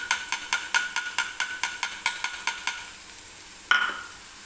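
Gram flour boondi batter for sweet boondi drips into hot oil as a spoon taps a perforated ladle: about a dozen quick, evenly spaced metallic taps, then one louder knock, with faint sizzling underneath.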